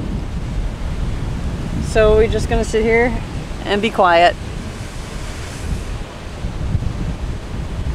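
Fast-moving water and waves along a Miami shore, a constant rushing wash mixed with wind buffeting the microphone, while a couple of voices talk briefly in the middle.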